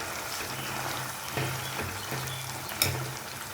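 Amla pickle fries and bubbles in sesame oil in a pan, giving a steady close sizzle. Stirring adds soft scraping pulses, and one sharper clink stands out near the end.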